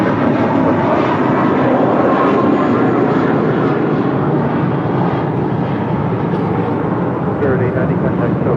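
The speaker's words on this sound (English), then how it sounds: "This is Spirit Airlines Flight 890 departing to Louisville on an A321" A Spirit Airlines A321 jet roars on departure at an airport, a loud, steady, broadband engine rumble that holds unbroken throughout.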